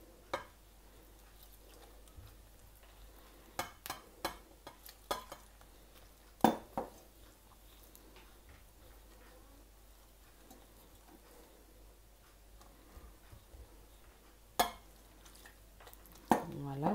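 Flour and water are mixed in a bowl into a firm dough for eggless, milk-free, butter-free beignets, with scattered soft taps and clinks of a utensil against the bowl amid quiet pauses.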